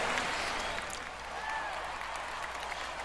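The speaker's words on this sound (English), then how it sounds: "Crowd in St. Louis chanting 50, 50, 50." Stadium crowd in St. Louis during a football game, a broad steady roar of many voices with rhythmic chanting blended into the wash, loud and continuous throughout.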